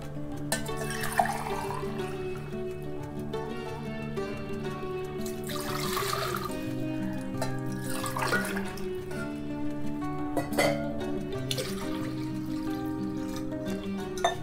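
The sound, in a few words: pouring water into pressure cooker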